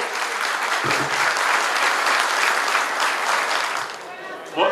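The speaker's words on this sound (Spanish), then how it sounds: "Un fuerte aplauso para Saúl" Loud, sustained applause from a large crowd at a political rally, dense and steady, fading slightly toward the end.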